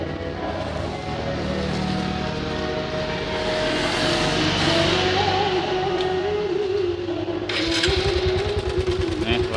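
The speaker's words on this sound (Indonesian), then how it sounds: "Sekarang kita hidupkan motornya." A Honda Supra X 125 motorcycle engine idling rough with its cover box removed, a steady uneven rumble close by that rises slightly in pitch, while someone talks over it throughout.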